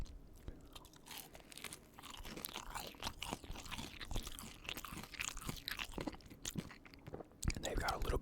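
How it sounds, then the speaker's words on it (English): Crisp, close crunching and chewing of Kroger brand chicken tenders, with repeated bites and wet mastication noises continuing steadily at low volume, a few louder crunches near the end. "They've got a little bit of a crunch to them, more than a chew"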